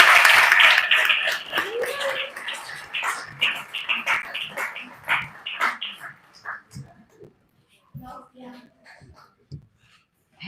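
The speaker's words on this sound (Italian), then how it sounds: "Facciamo un applauso al pianto di gioia." An audience applauds at an awards ceremony, clapping loudly at first and thinning into scattered claps before dying away, with a voice speaking over it.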